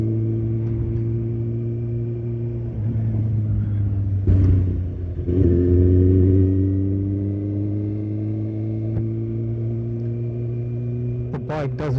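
A 2015 Kawasaki Ninja ZX-6R 636 motorcycle on a road test drone steadily at close range, its engine pitch rising and dipping through gear changes while a rider talks over it.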